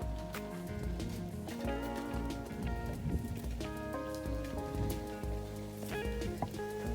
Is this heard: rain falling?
yes